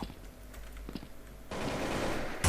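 Gunfire in the zombie mode of the shooter game Truy Kích, scattered quick shots over a busy game backdrop before a dense, sustained burst of rapid automatic fire takes over, loud and unbroken.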